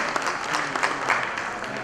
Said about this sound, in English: Big round of applause again for Dr. Mohindra